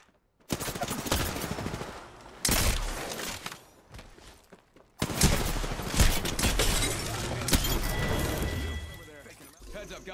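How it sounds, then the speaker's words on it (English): Video game gunfire in a shooter: loud machine-gun bursts and repeated shots arriving in several separate volleys with short pauses between them, while a voice talks over parts of the action. "Shot at! Firing."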